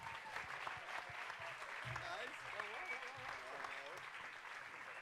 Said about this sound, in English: another huge round of applause for Greg Nicotero